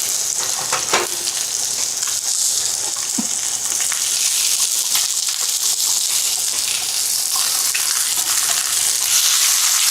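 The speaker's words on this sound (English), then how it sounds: "I just want some onions cooked with my steak." Onions frying with steak in a cast iron pan give a loud, steady, close sizzle with a bright crackling hiss that never lets up, and a few soft stirring scrapes come through.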